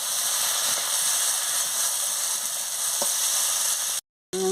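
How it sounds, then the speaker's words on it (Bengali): Mustard and turmeric paste fries in a pan for a fish bati chorchori, giving a dense, constant hiss with a couple of faint stirring scrapes, close and steady before a brief drop and a short clatter at the end. "সরষে বাটা আর হলুদের বাটা দিয়ে দিচ্ছি। দিয়ে ভালো করে নাড়িয়ে নিচ্ছি।"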